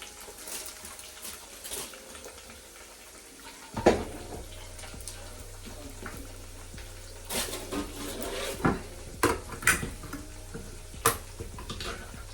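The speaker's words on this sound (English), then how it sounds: "So now, I'm gonna get it in the pressure cooker" Oxtail being placed into a pressure cooker: a low bubbling sizzle with scattered close clanks and knocks of the pot and utensils, several sharp clatters spaced a second or two apart.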